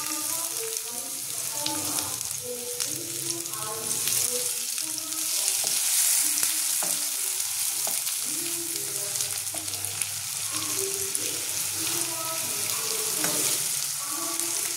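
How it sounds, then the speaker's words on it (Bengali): Chopped onions frying in a pan for Punjabi-style dal Amritsari, a steady close sizzle under a voice speaking throughout. "পেঁয়াজটা ভাজা ভাজা হয়ে গেছে, লাল লাল করে ভাজা হয়ে গেছে"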